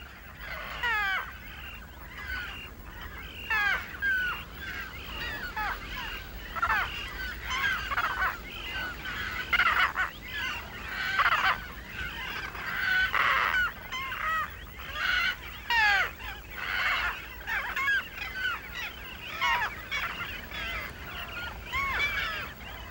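Terns call repeatedly during courtship in Taiwan, giving harsh, rasping cries in irregular bursts that are moderately loud and overlap one another.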